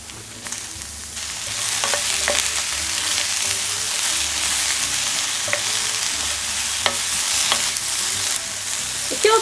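Eggplant, patted dry after soaking, sizzles and fries steadily in hot oil in a pan, with a loud continuous crackle broken by occasional stirring clacks and scrapes of a utensil, and no talking.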